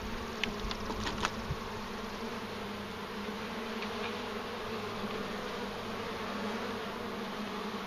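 A honeybee swarm hums steadily and up close while being moved from a swarm hive into a proper hive setup, a dense continuous buzz with a few brief louder bees passing the microphone early on.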